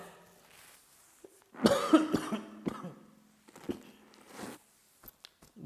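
A person coughs hard and painfully during a physics lesson, with a cluster of harsh, close coughs followed by a few smaller throat sounds and scattered quiet noises.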